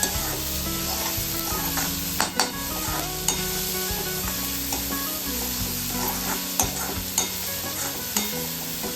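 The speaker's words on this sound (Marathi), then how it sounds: "शिमला मिरची आणि ओली मिरची ही चांगली भाजून घ्यायची" Capsicum and green chillies roasting in a pan, a loud continuous sizzle with steady frying crackle and occasional scraping strokes of a spatula, with no talking.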